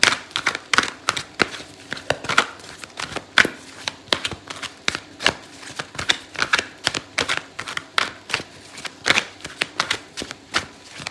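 Tarot cards are shuffled close up in quick, repeated crisp riffles and slaps, a steady run of sharp papery bursts with no talk.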